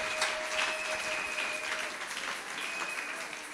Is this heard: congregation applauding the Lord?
yes